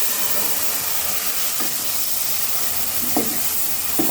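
Spice masala frying in a pan over a gas flame while being cooked down, a steady close sizzle and hiss with a few brief stirring scrapes, no voices.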